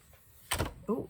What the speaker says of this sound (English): I managed to knock my camera.